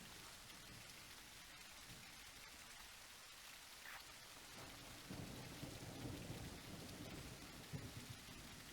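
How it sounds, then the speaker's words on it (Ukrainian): Steady heavy rain in the video game The Isle Evrima pouring down with distant rolling thunder, a continuous hissing downpour that swells slightly partway through; no voices. "А, дощик змиває все."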